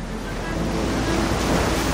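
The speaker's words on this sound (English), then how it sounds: "the power of all this water crashing and all these rocks" Steady, loud roar of ocean surf crashing on rocks along the Newfoundland and Labrador coast, a continuous wash of water noise with wind buffeting, no distinct breaks.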